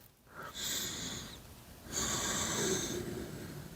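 Two deep breaths taken during a side stretch in a back-pain fitness routine, each a long airy inhale or exhale lasting about a second, close and fairly soft with a short pause between them.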